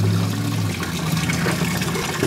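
Steady, close rush of water flowing through a hydrodynamic gold sluice model with a boulder placed in the channel, a continuous loud wash and trickle with no talking.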